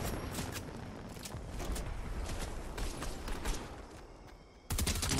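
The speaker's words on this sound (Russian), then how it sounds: "Со всех сторон стреляют" Gunfire from all sides in Fortnite, scattered bursts and sharp shots at mid distance over a busy background, with a louder burst near the end.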